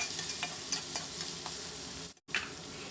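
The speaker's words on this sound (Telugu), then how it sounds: "ఆనియన్స్ని మంచి గోల్డ్ కలర్లోకి వచ్చే వరకు వేయించుకుందాము." Onions frying toward golden in a pan for a tomato and drumstick curry, a steady close sizzle broken by a few scraping stirs and a brief drop to near silence.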